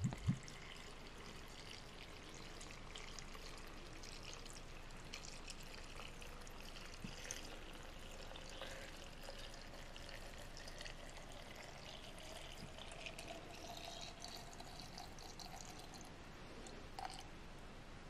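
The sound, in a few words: Bombay gin being poured over raisins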